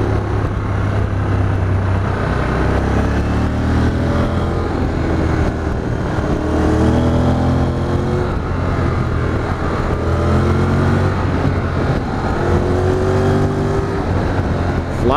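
A Honda NC750X motorcycle rides steadily at speed, its engine droning with gear-dependent pitch sweeps rising and falling under constant loud wind rush, heard close from the rider's position.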